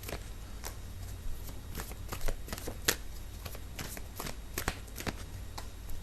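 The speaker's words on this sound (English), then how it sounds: "I need to pull out a few more cards." Tarot cards are pulled from a deck and handled, giving a run of quick, crisp card flicks and slides at close range, irregular and fairly soft, with no talking.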